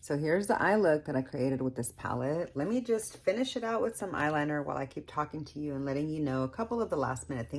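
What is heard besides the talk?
No everyday noises stand out.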